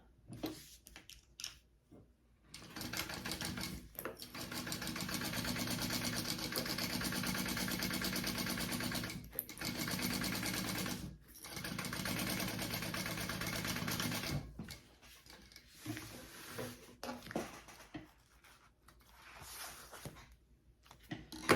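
A sewing machine stitches a crossbody bag in long steady runs, stopping and starting between seams, close and fairly loud with no talk over it.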